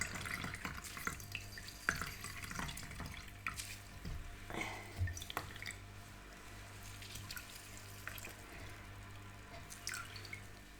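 Faint liquid dripping and trickling close by as thyme syrup is strained, with irregular drips and small splashes over a low background hum.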